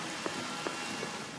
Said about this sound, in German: der Regeneffekt gefällt mir sehr gut bei Resident Evil